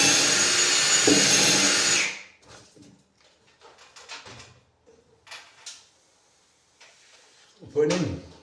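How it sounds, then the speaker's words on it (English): A drill bores pilot holes into a new timber beam being made to look antique, one loud whirring burst followed by quieter intermittent knocks and handling noises, with speech in places. "So I'll pre-drill them, pilot all them and then just knock them in."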